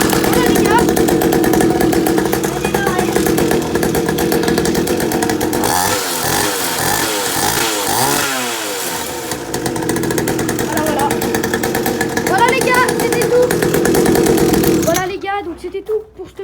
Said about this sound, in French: Je vais essayer de la démarrer, la bécane.